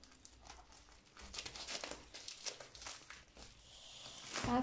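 Plastic packaging is crinkled and peeled off a diamond painting canvas, with a dense, continuous rustle that swells and grows louder toward the end, close by and with no talking.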